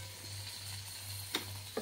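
Paneer cubes frying in a pan for a paneer curry, giving a steady low sizzle with a constant hum underneath and two brief sharp taps from a utensil near the end, with no voices.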